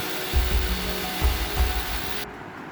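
A power drill at work while a Kutchina water purifier is mounted during installation: several short, loud whirring bursts close by, separated by brief pauses, before the motor cuts off and the room falls quiet.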